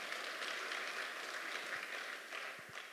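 Audience applause at a church testimony talk, a steady broadband wash of many hands clapping at moderate distance, sustained for the whole stretch with no speech over it.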